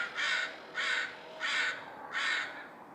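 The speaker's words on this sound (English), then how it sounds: "I always find seeing the crows flocking together every night, I find that really fascinating to watch" Crows gathering in an evening flock, four loud harsh caws spaced about half a second apart in a regular rhythm, fairly close and standing alone over a quiet background.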